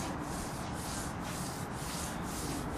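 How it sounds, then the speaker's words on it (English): A hand rubs across a car's painted finish still contaminated with stuck particles, giving a steady, close, gritty scraping like sandpaper that runs the whole time with no pauses and no voices. "this sounds like I'm rubbing my hand across a piece of sandpaper"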